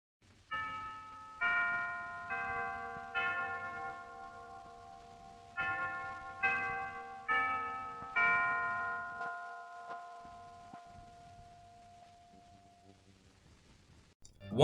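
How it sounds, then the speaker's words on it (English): Clock tower chime from the Shochiku film company logo music: a sequence of ringing bell strikes in a steady melodic pattern, each with a long sustained decay, fading out over the final seconds. "one consists of a clock tower chime"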